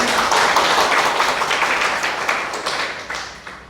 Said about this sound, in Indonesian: kita berikan aplaus untuk Cesa